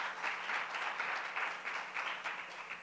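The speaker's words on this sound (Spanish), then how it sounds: "Dele fuerte el aplauso." A church congregation claps during a sermon, with dense applause in steady rhythmic pulses heard from a moderate distance and no speech over it.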